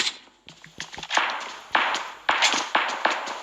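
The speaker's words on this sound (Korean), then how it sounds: "아우, 총소리. 정말 많이 울리는군요." Several sharp, loud bursts of video game gunfire crack in quick succession with short echoing tails, mixed with smaller clicks and thuds between them.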